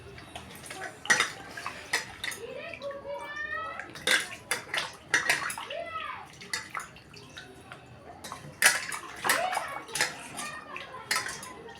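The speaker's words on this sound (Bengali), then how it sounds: "তারপরে কিন্তু মাছটা ভালো করে ধুয়ে নিচ্ছি" Fish is rinsed in water in a home kitchen, with repeated splashes, drips and clinks of a metal pot or bowl coming in irregular bursts, close by, as a person talks in between.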